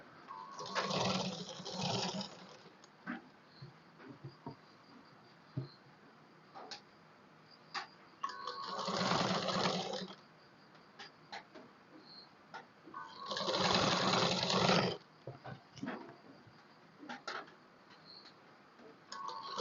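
Sewing machine stitching a neck piece onto a blouse, running in three distinct bursts of a couple of seconds each, separated by quieter gaps with light ticking and handling noises, fairly close and with no talk.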